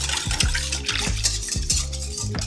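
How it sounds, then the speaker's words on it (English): Active dry yeast, runny honey and an egg whisked together in a bowl for Montreal bagel dough, rapid rhythmic clinking and scraping strokes close by, with a low tonal hum underneath. "We're going to give that a little whisk all together."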